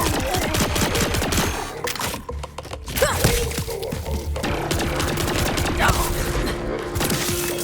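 Dense, loud gunfire from the Borderlands 4 video game, recorded on Hard difficulty in the Fadefield area. Overlapping shots and impacts crackle continuously over a busy game backdrop.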